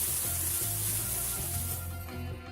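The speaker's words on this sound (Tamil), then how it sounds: "2 டீஸ்பூன் எண்ணெய் விட்டு அதில் கடுகை போட்டு வெடிக்க விடலாம்" Mustard seeds, chili and curry leaves sizzle in hot oil for a Tamil tempering. The frying is steady and crackling, moderately loud, with faint popping, and nobody speaks.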